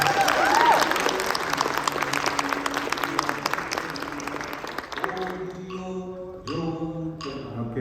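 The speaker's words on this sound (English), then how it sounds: "Give them a round of applause." Audience applause rises after a Choctaw social dance performance, dense steady clapping filling the first five seconds before thinning out as other sounds come in.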